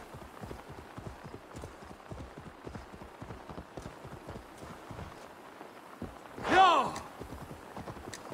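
Steady clip-clop of hooves trotting in a quick rhythm in Assassin's Creed Valhalla, with a horse snorting or whinnying briefly near the end.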